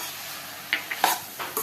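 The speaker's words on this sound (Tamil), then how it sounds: "இதை நல்லா எண்ணெயில் இதோட வறுத்துக்கணும்" Coconut and chickpeas fry in hot oil for kadalai curry, giving a steady sizzle broken by several short scraping clinks of a spoon stirring the pan.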